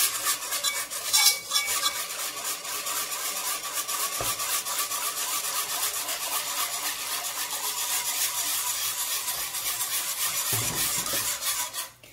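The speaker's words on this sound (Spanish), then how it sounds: "Es el momento en el que le vamos a añadir la leche, poquito a poco y removiendo." Milk is added bit by bit to a toasted flour roux while it is stirred steadily in a pan, giving continuous scraping and rubbing of the utensil against the pan with a faint sizzle, close and without any talk.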